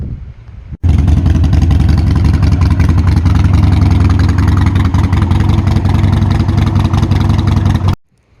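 A Harley-Davidson Sportster 1200cc motorcycle engine starts up abruptly and runs loud and steady with a deep, throbbing low-end rumble for about seven seconds, then cuts off.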